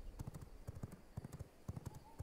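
Horse hooves clip-clop in quick, uneven beats in the vampire survival game V Rising, quiet and close, with faint background sound.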